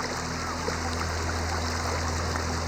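Chenab River floodwater in Jhang pours in a steady, dense rushing flow with a low constant hum beneath it, continuous and moderately loud, with no voices.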